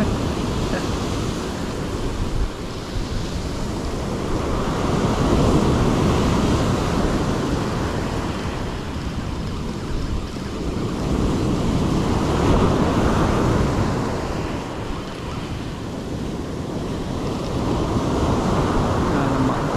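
Sea waves washing onto a sandy beach at Pasir Panjang, Segari, during an afternoon fishing trip: a loud, continuous surf roar that swells and eases in slow cycles every few seconds, with wind noise on the microphone and no talking.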